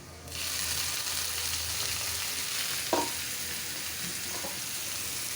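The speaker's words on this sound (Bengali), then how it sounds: "শাকটা দিয়ে দিচ্ছি" Greens dropped into a hot pan set off a sudden loud, steady frying sizzle that holds on, with a brief clink of a utensil partway through, no voices.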